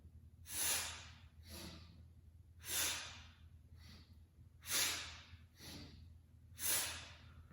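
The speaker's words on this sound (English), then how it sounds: "you'll notice me using my breathing in a really punchy fashion" Forceful, punchy exhalations during a core floor exercise, four sharp hissing breaths at a steady rhythm about two seconds apart, close and alone over a low background hum.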